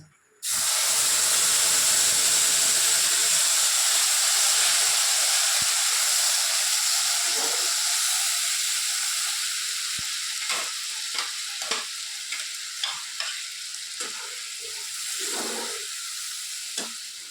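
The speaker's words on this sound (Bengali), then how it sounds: "একটু ভাজা ভাজা মতো করে নিই।" Loud steady sizzling of potatoes frying in a hot pan with spices, with occasional clinks and stirring scrapes toward the end.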